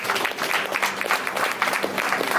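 A crowd at an evening gathering, likely a University of Lagos event, bursts into a steady round of clapping that holds at an even, fairly loud level for the whole stretch, with no voices over it.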